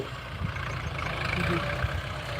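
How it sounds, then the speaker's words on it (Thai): Steady low engine rumble of a tractor in a rice field, continuous and moderately loud, with faint outdoor background noise. "เสียงรถไถดังเนาะจ้าพี่น้อง"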